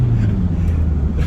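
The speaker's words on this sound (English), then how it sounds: "Now we've just taken off of the lights." A Toyota Camroad motorhome accelerates away from traffic lights with a steady, low engine drone and road rumble heard from inside the cab.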